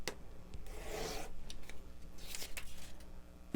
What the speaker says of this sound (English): So I'm going to trim right on the dashed line.